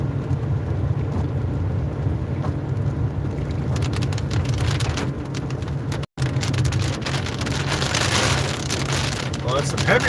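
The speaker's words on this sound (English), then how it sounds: "Well, it's some heavier rain coming now." Heavy rain pours steadily at a Mets vs. Braves baseball game, a dense hissing wash that thickens midway through, with a low hum and faint crowd voices underneath and a momentary dropout.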